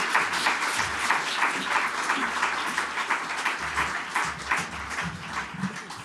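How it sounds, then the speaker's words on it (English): An audience at a talk on AI, creativity and the humanities breaks into sustained applause, a dense even wash of clapping that carries on steadily throughout. "Let's give him a rousing applause."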